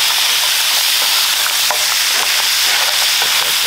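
Peppers frying on an outdoor Camp Chef griddle give a loud, close, continuous hissing sizzle with faint crackles and taps throughout, no voices.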